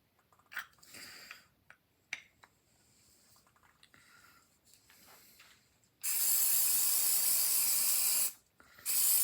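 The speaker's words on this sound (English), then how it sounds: "And all the spray does is set the super glue almost instantly." Super glue accelerator sprayed onto a wooden pen blank: a loud, steady aerosol hiss lasting about two and a half seconds, then a short second burst, after quiet handling taps and rustles.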